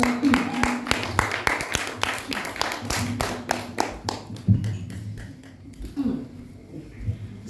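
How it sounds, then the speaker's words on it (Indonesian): An audience claps to welcome a speaker arriving at an Indonesian cadre training session on rhetoric, a dense burst of claps that slowly thins out, with a few loud sharp claps standing out. "Kepada beliau beri tepuk tangan paling meriah."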